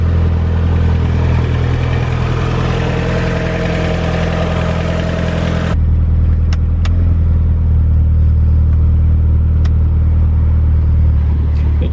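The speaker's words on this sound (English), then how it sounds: "Starts up nice, idles nice. Nice quiet tone. Does have an exhaust on it." Mitsubishi Evo idling with an aftermarket exhaust, a steady, low, quiet rumble that holds even throughout, close by, with a faint shift in tone partway through and no talking.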